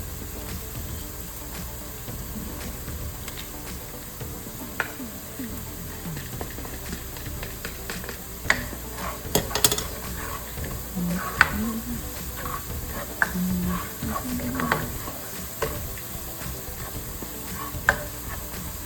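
Spices, with grated ginger nearby, sautéing in hot oil in a pan for a red lentil dahl, a continuous soft sizzle and hiss with scattered crackles and occasional utensil taps, close and fairly quiet throughout.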